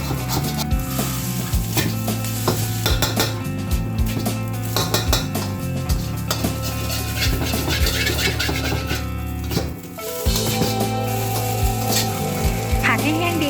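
Fried rice with naem scraped and stirred in a wok: loud, continuous metallic scraping and clanking of a spatula against the pan over frying sizzle, close and busy throughout.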